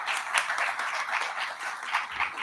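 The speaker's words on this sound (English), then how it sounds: "So another round of applause for all of our faculty that helped." An audience at an honors program recognition ceremony claps for faculty in a moderate, even round of applause heard from a distance, with no talking over it.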